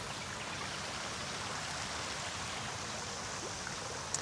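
Steady broadband rush of a waterfall pouring into a resort pool at the Conrad Bali, Indonesia, a continuous even wash of falling water heard alone without talk.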